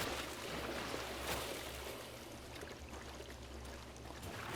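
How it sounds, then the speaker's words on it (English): Wading footsteps splashing through shallow water in the Satisfactory video game, a soft steady trickling slosh throughout, quiet and near, with no talking. "it's the sound of me walking through water"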